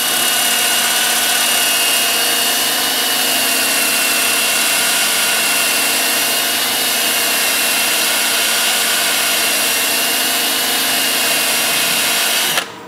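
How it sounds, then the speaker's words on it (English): Steady, loud abrasive whir of sandpaper held against a wooden half bowl spinning on a lathe, continuous and unbroken for the whole stretch, then cutting off abruptly at the end. "I'm just going to sand with that edge."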